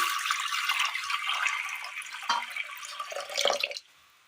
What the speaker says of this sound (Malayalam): ഇതിലേക്ക് ഒരല്പം വെള്ളം കൂടി.